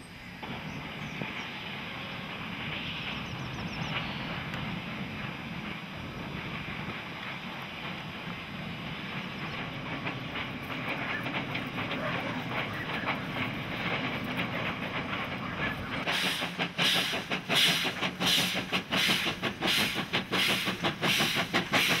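A train rolls across the viaduct near Ormondville railway station, a historic line dating from 1880, with a sustained hissing, rumbling roll that turns into a loud, rapid clickety-clack rhythm toward the end.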